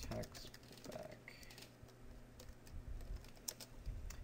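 Someone types code on a computer keyboard, giving a quick, close, irregular run of soft key clicks with brief pauses, quiet overall.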